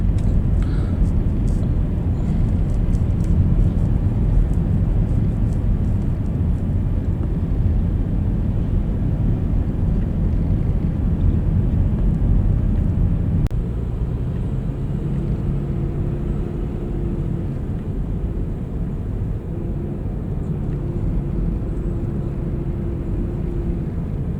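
A steady low rumble of idling and crawling car engines in a traffic jam on a Malaysian road, heard from inside a vehicle, with a continuous drone and a faint engine hum that varies later.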